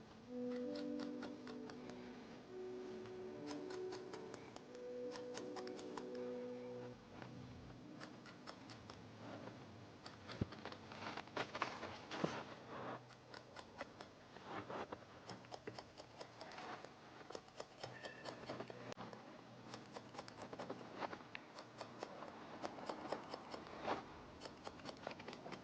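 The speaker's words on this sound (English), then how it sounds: "how I use my thinning shears over comb effectively" Thinning shears snip hair over a comb in a series of faint, crisp clicks and light snips, with soft music in the background during the first few seconds.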